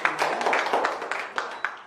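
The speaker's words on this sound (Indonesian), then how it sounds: "Baik, tepuk tangan gitu." A small group claps hands during an ice-breaking activity, sharp irregular claps in quick succession over about two seconds, fairly close with a faint tone in the background.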